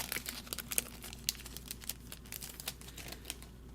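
Decorative foil sheets crinkle and rustle while being handled, producing a run of close, quiet crackling bursts with brief sharp crinkles scattered throughout.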